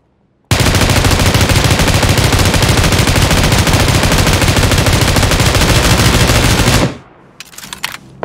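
Sustained, loud automatic spray from an M249 machine gun in PUBG, a dense unbroken burst lasting several seconds before cutting off abruptly, followed by a few faint scattered clicks and shots.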